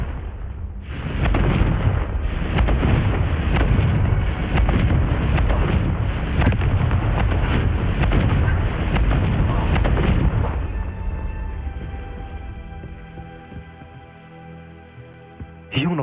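Fire spell explosions from Hogwarts Legacy roar as a dense, loud rumble of blasts for about ten seconds, then fade into a quieter ringing tail.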